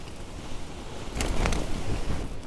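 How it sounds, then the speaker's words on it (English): Strong New Zealand wind buffets the microphone in continuous rumbling gusts, swelling louder in the middle, with no voices. "riding in this wind for sure isn't fun"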